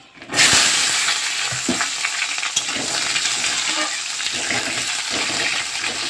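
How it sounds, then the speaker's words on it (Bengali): Potatoes hit hot oil with a sudden burst of sizzling, then keep frying loudly and steadily, with occasional stirring clatters in the pan. "আলুগুলো আমি লাল লাল করে ভেজে নেব"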